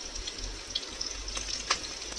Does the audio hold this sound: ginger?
yes